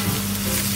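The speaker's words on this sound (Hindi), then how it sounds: "अच्छी तरीके से मिक्स करेंगे और कपल ऑफ मिनट हम इसे भूनेंगे." Ground spices—roasted cumin, coriander powder and bay leaf—fry in a pan for a chicken and chickpea soup, giving a brief, steady close sizzle with a low hum and no voices.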